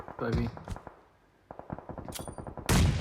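Gunfire in the video game PUBG Mobile, a rapid burst of repeated shots followed by a louder blast at the end, with a voice talking briefly at the start.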